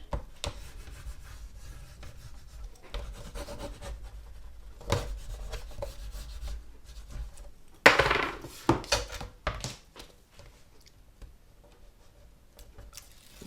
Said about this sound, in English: I'm just going to burnish